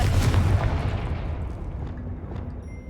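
Confringo fire spell in Hogwarts Legacy, a loud booming explosion burst at the start that rumbles and decays over about two seconds.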